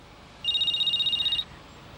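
A telephone rings one time in a quiet room, a bright electronic warbling trill lasting about a second before it stops.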